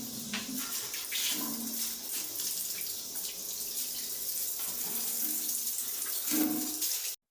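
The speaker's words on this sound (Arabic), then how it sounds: "جبت الخرطوم وبدأت طبعا ان انا اشطف القعدة على طول كده" Water from a hose pours and splashes steadily over a toilet base while a bathroom is rinsed, a continuous close rush of spraying water.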